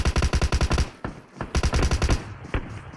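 Automatic gunfire in the mobile battle-royale game PUBG Mobile: rapid bursts of sharp shots, a long burst, a short pause, then more bursts with a few single cracks, loud and close, with no voices.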